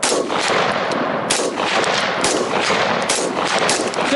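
Rapid gunfire from an overland shooting course rings out loud and close, shots packed into dense bursts that keep going through the whole stretch with no talk over them.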